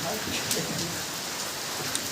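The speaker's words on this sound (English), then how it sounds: "Since it's raining pretty hard," Heavy rain pours steadily outdoors, a dense continuous hiss with scattered drop impacts on nearby surfaces, close and fairly loud throughout.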